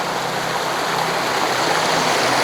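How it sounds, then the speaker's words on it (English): A small stream and mini waterfall on the Karshi Gudda hill trek, rushing steadily and close by as continuous broadband water noise, with no voices. "So there's a very nice cool looking waterfalls, a mini stream"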